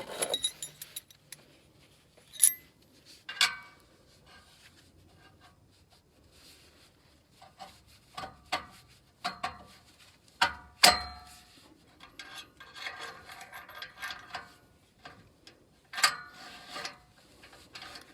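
A muffler clamp is tightened during a car exhaust and tail pipe replacement, heard as scattered metallic clinks, ratchet clicks and tool rattles, close but fairly quiet, in irregular bursts separated by near silence.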